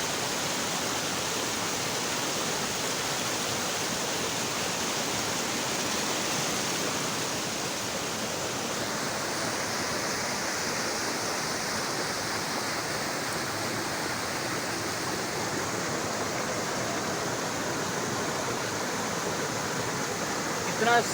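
Clear water flowing through a scenic spot in Azad Kashmir, a steady, close rushing wash that stays unbroken and evenly loud throughout.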